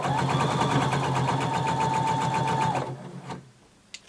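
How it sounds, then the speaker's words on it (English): A sewing machine runs steadily and close up, stitching a bodice band seam across the bottom of a garment with a 5/8 inch seam allowance, then stops near the end, leaving a few faint clicks. "Now we're going to sew all across the bottom using 5/8 of an inch seam allowance."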